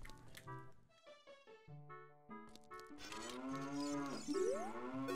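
A tailless cow in a video game moos in a long, drawn-out call near the end, clear over soft game music.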